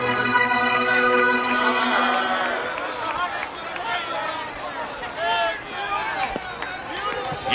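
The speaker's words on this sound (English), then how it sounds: "listen to the roar of the crowd as the Indians take the field" Baseball crowd roaring in Cleveland as the Indians take the field, a broad distant swell of stadium noise that begins with a held organ-like tone and continues under a voice talking.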